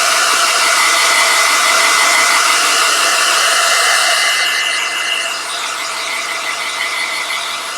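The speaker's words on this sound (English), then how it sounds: "I'm just going to hit this with the hair dryer for a second" A hair dryer on high blows with a loud, steady high-pitched whir close up, drying paint on a miniature boltgun, easing slightly in pitch and level toward the end.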